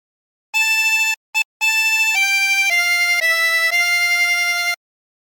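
A 20-hole tremolo harmonica plays a short phrase of Hark the Herald Angels Sing, with a few quick separate notes followed by several held, stepping tones that have a bright reedy warble, clear and alone.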